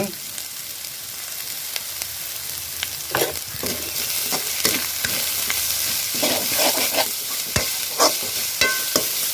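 Paneer fried rice ingredients, vegetables with salt and egg, sauté in a pan with a steady sizzle, while a spatula scrapes and clatters in irregular strokes throughout, near and fairly loud, with no talk.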